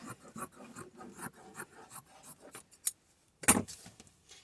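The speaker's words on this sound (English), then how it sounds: "It's what I need to use the rotary cutter, see, because look at the cutting job on that." A rotary cutter slices through coarse, linen-like vintage fabric in a run of short, close rasping crunches, quiet and rhythmic, ending with a brief sharper scrape.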